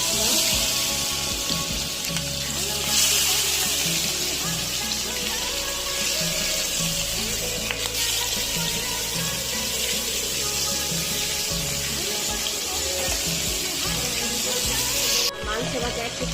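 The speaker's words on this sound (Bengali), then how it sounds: "মশলাটা মাখানো হয়ে গেছে, এখন আমি এগুলি তেলে ভাইজা নিব" Spiced broiler chicken pieces frying in oil in a pan give a steady, close crackling sizzle that runs throughout, with some faint background hum beneath it.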